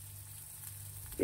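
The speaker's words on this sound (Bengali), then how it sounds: "আর ভাজার দরকার নেই, কারণ এটা ভালো ভাজা হয়ে গেছে।" Pointed gourd pieces fry in a little oil for a mustard gourd dish, giving a faint, steady sizzle that ends with a short clatter.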